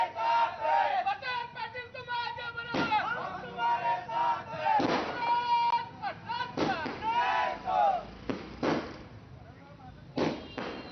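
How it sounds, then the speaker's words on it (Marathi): Crowd of party workers celebrating a candidate's nomination in Dharashiv with firecrackers and thrown gulal powder: several sharp firecracker bangs burst through loud, continuous cheering and shouting voices. "फटाक्यांची आतषबाजी, गुलालाची उधळण करत जल्लोष करण्यात आला"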